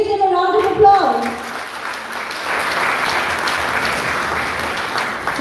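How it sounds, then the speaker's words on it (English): Applause from an audience follows a devotional kirtan, a broad steady clapping that swells after a brief tail of sung or instrumental tones at the start and continues evenly to the end. "Let's give them a round of applause."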